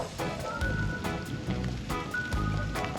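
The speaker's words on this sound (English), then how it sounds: "the rain has just been falling constantly since yesterday" Steady rain falls in the hills of Jamaica, a continuous wet hiss with scattered drops and occasional sharper patters, moderately loud and close with no voices.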